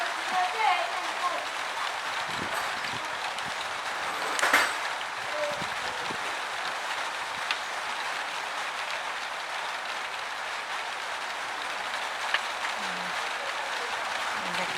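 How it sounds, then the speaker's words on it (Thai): Rain patters steadily on surfaces in a rural Surin, Thailand setting, a dense, hissing wash with a few brief louder knocks and faint voices in the background. "ได้ยินเสียงฝนแล้วสดชื่นจริงๆเลย"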